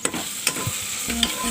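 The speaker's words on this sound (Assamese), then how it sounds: "এইখিনিও ভাজি ল'ম তেতিয়ালৈকে ইয়াৰ কেঁচা গোন্ধটো নাযায়" Meat frying in a pan with beetroot, carrot and ginger-garlic paste, a steady close sizzle broken by scraping stirs of the spoon.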